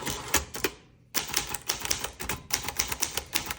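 Rapid bursts of keystrokes on a 1963 Olivetti Lettera 22 portable typewriter, crisp clacks in quick runs broken by a short pause, close and loud with no voices.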